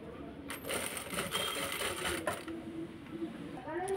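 A sewing machine stitches a folded blouse hem in a steady, close mechanical whir that runs throughout, with someone speaking over it.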